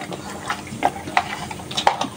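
Turmeric- and chilli-rubbed fish is handled in a pan of mustard oil, with soft clinks and scrapes over a low frying hiss. The sounds are close and brief, and there is no talk.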